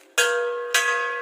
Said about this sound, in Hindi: घंटी बजने की आवाज़ से पूरा दुख हर लेता है